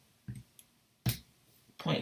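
Calculator keys pressed one at a time, three soft taps spaced roughly a second apart, close and quiet, with faint talking in between.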